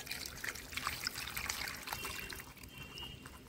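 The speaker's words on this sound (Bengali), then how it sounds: "এবার একটু করে জল ঢেলে দেব।" Water is poured little by little into grated raw mango, giving a soft, close trickle that runs steadily for a few seconds and eases slightly toward the end, with no voices.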